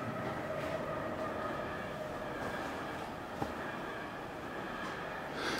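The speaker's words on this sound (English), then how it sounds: "The train is there." A train rolls past near an abandoned hillside mansion, a steady rumbling rail drone with faint clatter, continuous and moderately distant with no talking.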